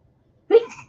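A single short, sharp sneeze bursts out after a moment of silence, close and fairly loud, then trails off quickly.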